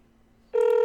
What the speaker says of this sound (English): There it goes. It's ringing.